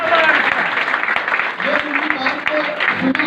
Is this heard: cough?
no